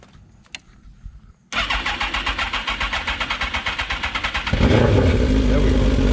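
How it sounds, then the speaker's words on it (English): After a brief quiet with a few clicks, a truck engine cranks in rapid rhythmic pulses for several seconds, then catches and roars into a steady run. "No, we're gonna turn the truck on."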